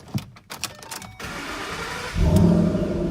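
A 2012 Ford Mustang Shelby GT500 starts up after a few clicks and rustles inside the cabin, its engine cranking into a deep, close rumble that swells in the last second.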